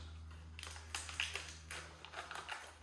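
Scissors snip and tap at hard drive packaging, a handful of short crisp clicks and cuts at irregular intervals over a quiet low hum, close and fairly faint.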